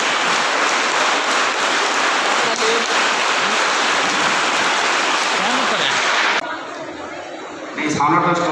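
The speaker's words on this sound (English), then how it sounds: "I request with a big round of applause the newly elected head boy, Tanush, and head girl, Pariyata" A school crowd claps loudly for a newly elected head boy and head girl at a student council swearing-in ceremony, a dense sustained round of applause that cuts off abruptly, followed by quieter voices.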